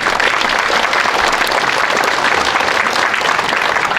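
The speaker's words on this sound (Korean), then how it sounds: "여러분 박수로 고마움 표시해 주시면 고맙겠습니다." Ceremony attendees at a memorial for Syngman Rhee clap in thanks for the veterans affairs minister, a dense, loud round of applause sustained throughout.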